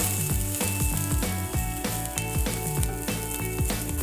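Onions and minced garlic fry in a pan with a steady, loud sizzle, while a rhythmic music beat plays underneath throughout.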